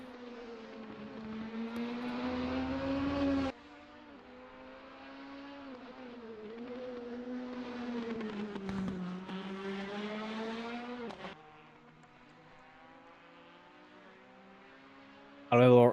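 Race car engines drone in a sim racing game at Imola, a steady buzzing whine that rises and falls with gear changes, loud at first and then quieter and more distant, with a sudden loud burst at the very end.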